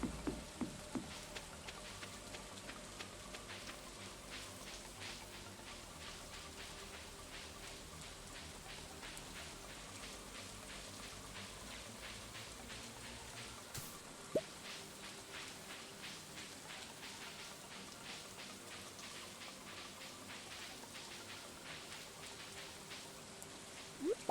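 Green rain falling in the video game Stardew Valley, a steady, soft patter of raindrops that holds for the whole stretch, faint and even with an occasional brighter tick, no voices.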